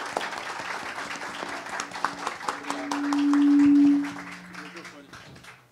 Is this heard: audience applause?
yes